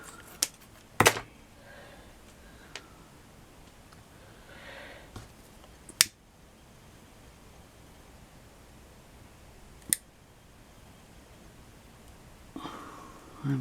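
Craft tag material is cut during a DIY tag project, giving a few sparse, crisp snips and clicks spaced seconds apart over a quiet room background.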